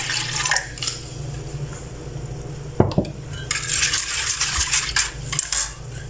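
Yogurt and water are mixed in a metal pot in a home kitchen, with steady scraping and clinking from a utensil against the pot, a sharp knock near the middle, and quiet liquid stirring throughout, close and moderately soft.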